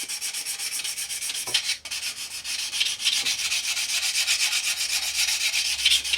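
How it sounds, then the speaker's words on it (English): A sanding stick rubs back and forth across a plastic model kit part in steady, close strokes, a continuous scratchy rasp with a brief pause partway through and no voices. "switch over to a finer sanding stick on the finer side if you're using ours"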